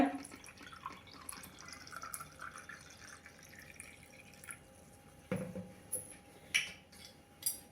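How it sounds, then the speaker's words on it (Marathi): Cold water trickles and drips faintly into a glass, with a few sharper splashes and clinks scattered through a quiet stretch. "त्यामध्ये गार पाणी घालूया"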